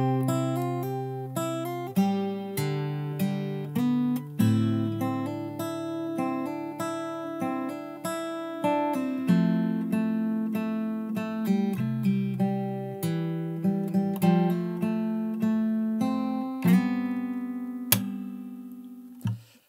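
Fingerstyle acoustic guitar playing the chorus of a song, plucked bass notes under a picked melody, evenly paced and close, ringing out alone for about twenty seconds.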